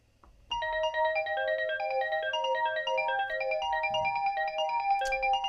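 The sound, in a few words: synthesizer arpeggiator pattern playing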